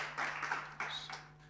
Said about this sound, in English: Give me a big round of applause as we